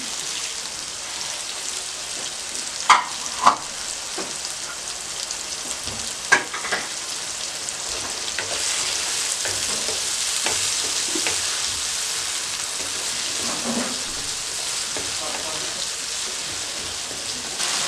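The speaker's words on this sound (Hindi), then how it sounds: "अब मसाला भून गया है" Close, dense sizzling of masala spice paste frying in a pan for chicken karahi, with a few sharp clinks of a spoon against metal scattered through.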